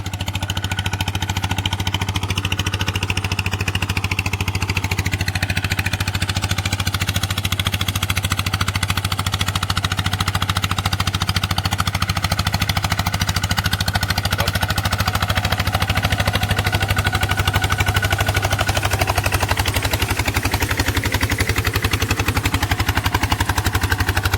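An engine runs loud and close after being shifted into second gear, a steady throbbing drone with a strong low hum that never lets up, and no talking.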